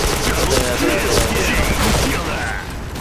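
Dense, continuous gunfire rattles through an online shooter match, loud and relentless for the whole stretch.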